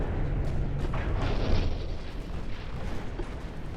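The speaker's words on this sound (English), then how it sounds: "Oh, you just took a big hit from a 5-inch gun." Naval gunfire shell impacts in the Ultimate Admiral Dreadnoughts warship game, with a 5-inch gun hit among them: heavy rumbling booms that roll together into a dense, loud wash of low explosions with no talk.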